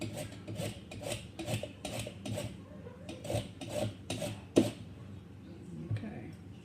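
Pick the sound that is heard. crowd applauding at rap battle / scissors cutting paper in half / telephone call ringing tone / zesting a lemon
zesting a lemon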